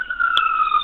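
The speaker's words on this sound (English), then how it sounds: "It's an ambulance passing by." A passing emergency siren on a Bronx street is heard over a phone line, a steady wailing tone with a brief click partway through, moderately loud and continuous.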